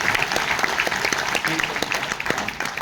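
Poetry-gathering audience applauding in Hindi, a thick sustained patter of many hands with a few sharper individual claps standing out, with a voice briefly heard over it.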